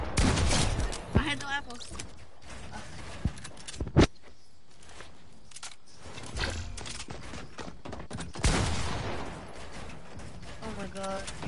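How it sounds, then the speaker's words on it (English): Shotgun blasts in a PS4 video game, several sharp loud shots scattered among clattering mechanical sounds, with someone talking over the action. "Shotgun shot, though."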